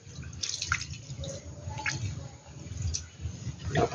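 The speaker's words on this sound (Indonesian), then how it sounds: "Kemudian kita siram lagi untuk yang kedua kalinya, sahabat ya." Water is poured over polybag planting medium for a second soaking, giving soft intermittent splashes and drips close by at a low level.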